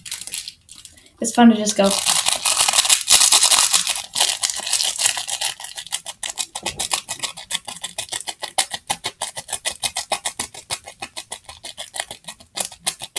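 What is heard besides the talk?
crunching up a piece of paper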